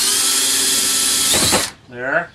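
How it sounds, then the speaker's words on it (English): A power drill whines steadily and loudly while drilling a pilot hole through metal trim, then winds down and stops, followed by a brief spoken word. "All right, so staying on the inside of the line,"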